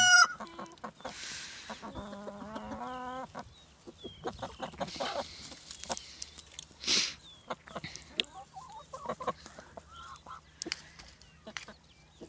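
Several mixed village-breed chickens, about 30 to 35, cluck and squawk nearby, with a rooster-like call and scattered honking, in a busy, irregular farmyard chorus.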